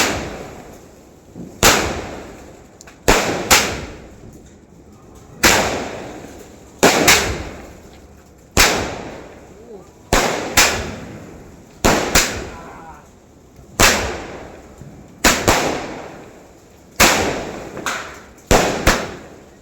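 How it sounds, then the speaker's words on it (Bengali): Firecracker fireworks bursting during Kali Puja celebrations, a thirty-shot cake firing loud sharp bangs in irregular pairs and clusters, each with a decaying crackle, close by and without talk. "বাজি ফাটানো"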